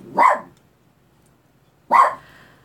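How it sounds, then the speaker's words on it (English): A single dog barks twice indoors, two loud, close woofs about two seconds apart with quiet in between. "Who are you barking at? There is nobody out there."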